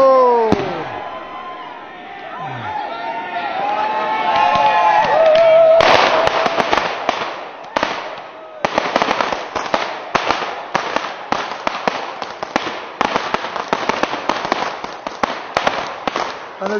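Fireworks go off over Loch Lomond at a New Year celebration: a rising whoosh, then a rapid volley of sharp cracks and bangs echoing for several seconds, with a large crowd of revelers audible in the background.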